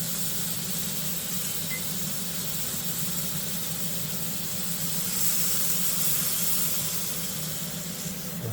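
Chuck roast searing in a hot pan for a carnivore-style meal, a steady close sizzling hiss running evenly throughout with no talk.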